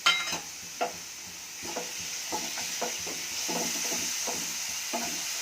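A spoon stirs carrot halwa with fried cashews and raisins in a pan. It makes a run of soft, irregular scrapes and knocks over a faint low sizzle, and one sharp clack rings out at the very start.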